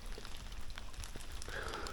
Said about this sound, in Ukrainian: Ось така от погода, дощ.